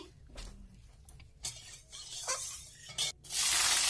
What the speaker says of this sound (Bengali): আমি কড়াইয়ে তেল দিয়ে আলুটাকে ভেজে নেব